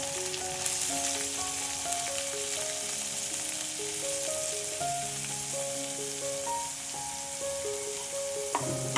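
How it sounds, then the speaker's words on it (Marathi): Finely chopped onion fries in oil with green masala for a quick tomato chutney, a continuous close sizzle with a steady background hiss and occasional stirring. "आता बारीक चिरलेला कांदा घालायचा"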